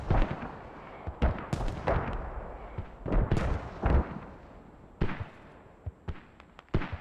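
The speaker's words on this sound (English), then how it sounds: "Looks like the mortars are being destroyed." Mortars being destroyed in a Squad match: a string of sharp, close blasts and booming explosions at irregular intervals, some in quick clusters, with no talk over them.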